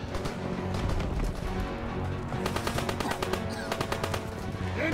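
Sustained gunfire in the Call of Duty WWII D-Day beach assault: dense machine-gun bursts and rifle shots rattle continuously at loud, steady level, with sharp staccato volleys clustering in the second half amid battle din.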